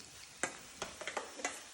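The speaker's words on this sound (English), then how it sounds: "Mix all that up." A spoon stirs chopped tomatoes, tomato paste and salt in a pan, giving a few soft, scattered scraping and squelching strokes, close and fairly quiet, with no talk.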